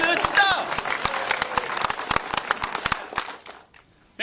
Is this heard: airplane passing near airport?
no